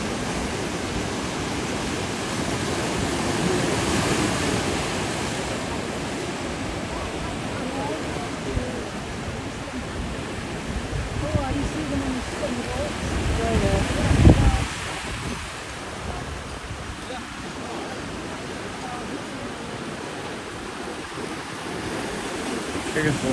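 Rough ocean waves crash on a Canary Island beach with a steady, loud roar of surf; one heavier breaker surges in about two-thirds of the way through before the wash settles back.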